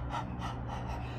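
A person's voice imitates a panting dog with rapid, breathy rhythmic huffs, about four or five quick gasping pulses, close and fairly loud with no other talk.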